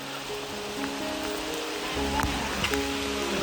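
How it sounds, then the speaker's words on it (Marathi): Heavy rain falls during a Ganpati festival trip to a village in Konkan, a steady dense hiss of drops on surfaces that swells louder partway through, with faint voices in the background. "पाऊस आला जोरात"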